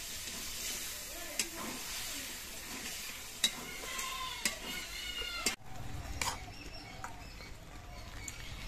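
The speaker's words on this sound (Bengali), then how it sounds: "চিনি দিয়ে নেড়ে চেড়ে মিশিয়ে নিতে হবে।" Spinach chicken being stirred with sugar in a hot pan, giving a steady low sizzle with scraping spatula strokes and a few sharp clinks against the pan, close and fairly quiet.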